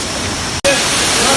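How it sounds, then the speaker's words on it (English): Large waterfall in a dark cave-like spot reached after a long walk, heard as a steady loud broadband roar, briefly cut by a gap, with voices faintly mixed in. "This is the waterfall"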